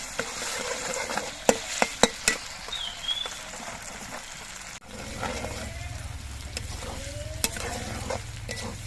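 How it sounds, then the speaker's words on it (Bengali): Ginger masala sizzling and frying in a pan, stirred with sharp spoon scrapes and taps over a steady close crackle that grows fuller partway through. "নাড়াচাড়া করে মিনিট দুয়েকের মতো কষিয়ে নিতে হবে যাতে আদা দিয়ে কাঁচা গন্ধটা চলে যায়"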